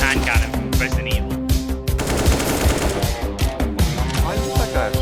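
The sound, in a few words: hand cannon gunfire in video game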